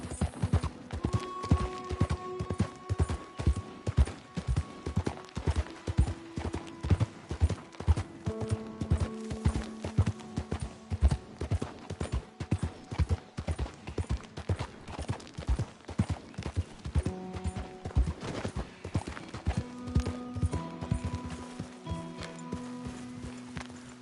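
Rhythmic clip-clop of horse hooves at a steady gallop in the video game Red Dead Redemption 2, loud and close, continuing throughout over a soft musical backdrop.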